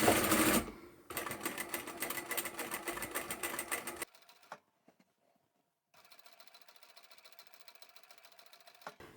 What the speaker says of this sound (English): You don't need to push or pull your fabric, let the machine guide your fabric through.